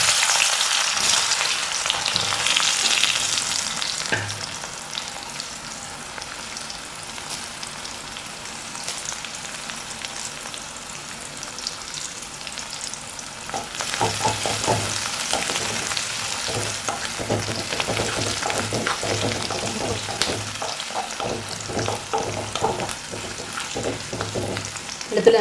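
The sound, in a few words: crushed garlic frying in oil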